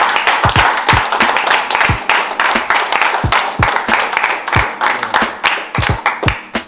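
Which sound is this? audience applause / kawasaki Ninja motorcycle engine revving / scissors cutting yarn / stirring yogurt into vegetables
audience applause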